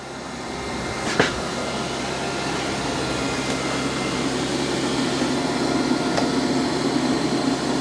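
Robot vacuum mop with auto-raising mop pads running steadily across the floor, a constant close whirring hum with a couple of faint clicks.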